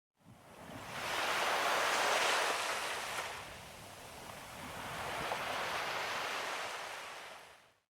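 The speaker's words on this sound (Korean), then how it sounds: "파도는 무심하게 밀려왔다 멀어질 뿐이지만 늘 거기에서 담담히 받아준다." Ocean waves wash in at the shore, two broad surges of rushing surf swelling and receding in slow rhythm, fairly near and steady, with no voices.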